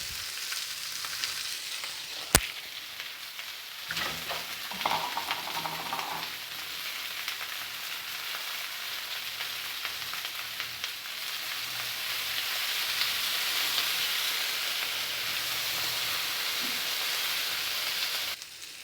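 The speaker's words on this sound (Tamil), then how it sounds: "கத்திரிக்காய் முருங்கைக்காய் இந்த மாதிரி எண்ணெயிலேயே வதக்கும் போது" Chopped brinjal and drumstick sizzle in hot oil for wedding-style sambar, a steady, broad frying hiss lasting throughout, with a sharp utensil clack near the start and brief stirring scrapes early on; no voices.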